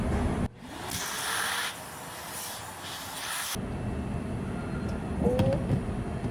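A vacuum cleaner roars loudly while cleaning out a home coffee grinder, a steady broadband whoosh that cuts off abruptly partway through, leaving low rumbling and small clicks.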